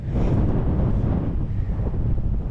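Wind buffets the microphone during an electric-assist mountain bike ride on trails near Eugi, a loud, continuous low rumbling roar with no talking.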